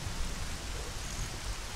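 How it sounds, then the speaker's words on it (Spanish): Steady rain falls in The Legend of Zelda: Ocarina of Time on the Nintendo 64, a soft, even hiss of constant downpour with no voices, heard faintly throughout. "¿Y por qué lo he hecho llover?"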